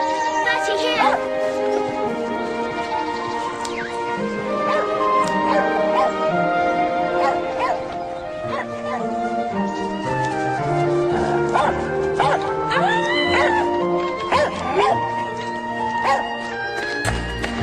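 A dog yips, whimpers and barks in short bursts amid a busy indoor scene with people talking and music playing.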